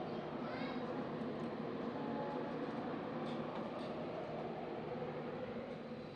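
Steady rumble of a slow Indian passenger train running on the tracks near Bilaspur's coaching yard, a continuous dense rolling roar with faint higher rattles, loud and unbroken throughout.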